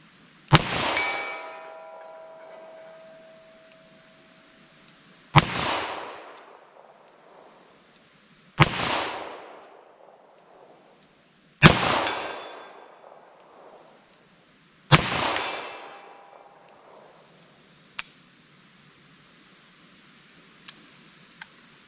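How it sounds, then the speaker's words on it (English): Five loud, sharp revolver shots from .32 H&R Magnum handloads fired at a 75-yard target, spaced a few seconds apart, each ringing out with a decaying echo, followed by a fainter metallic click and small knocks. "So let's start with our 32 H&R Magnum, see how these things shoot from 75 yards."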